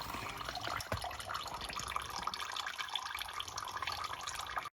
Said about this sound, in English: It's better if your transmission oil is warm before you drain it.